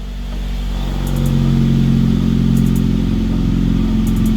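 Honda CRV Turbo fitted with a custom fabricated exhaust revs up, the engine note rising over the first second and holding a loud, steady droning rasp close by, with no talking.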